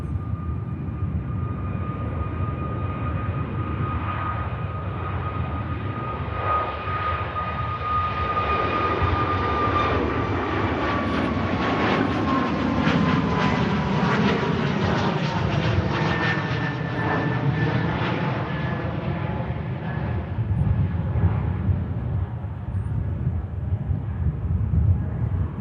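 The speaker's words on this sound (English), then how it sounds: "One Ryanair taxis back to gate while the other one makes its way down 23 right." Ryanair jets at Manchester Airport, one taxiing back to the gate while another rolls down runway 23 right, a steady engine roar and whine rising and swelling in the middle, continuous and fairly loud with no talk.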